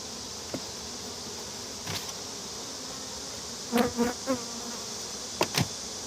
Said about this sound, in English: That's just got lots of baby bees on both sides.